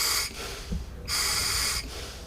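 Breathing through a scuba diving regulator: two hissing inhalations separated by quieter pauses, close and raspy, with no talk.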